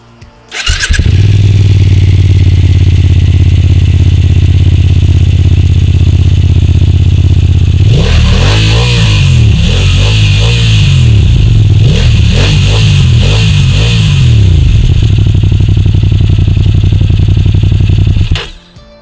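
BMW F900XR mid-class sport-touring motorcycle with a loud, steady engine note, rising into repeated throttle blips and revving surges midway before settling back to a strong growl, close and alone.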